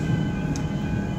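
Riding aboard a train, with a constant low rumble and steady rolling hum filling the whole stretch, one faint high click partway through, and no talking.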